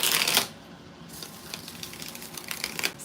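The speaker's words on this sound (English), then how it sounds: "6 shuffles for Lizzie Girl" Quick riffling and papery flutters as cards are shuffled close by, a sharp burst at the start followed by softer, repeated shuffling.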